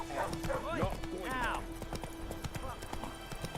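The horse Roach's hooves clip-clop in The Witcher 3: Wild Hunt, a steady trotting rhythm of light hoof strikes under spoken game dialogue, with a short neigh near the start.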